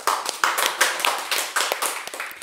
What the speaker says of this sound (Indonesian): Ada Mbak Mita, tepuk tangan boleh?